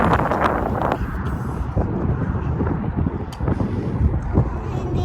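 Strong, cold wind blows outdoors outside the Calgary Farmers' Market, roaring and buffeting the microphone in continuous loud gusts.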